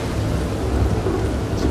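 A heavy thunderstorm in Red Dead Redemption 2, loud rolling thunder rumbling beneath a dense steady hiss of pouring rain.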